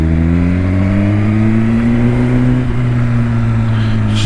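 A Suzuki GSX-R1000R with a slip-on exhaust and the baffle removed idles and revs close by, a loud, deep, steady engine drone whose pitch rises gently and then eases back, with no talk.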